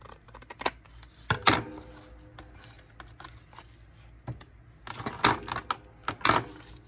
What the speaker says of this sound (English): I'm going to cut around this piece here